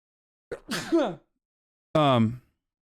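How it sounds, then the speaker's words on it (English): A sharp, loud sneeze up close, followed by a short pause and a second voiced burst like a gasp or exclamation. "Hold on, I gotta sneeze."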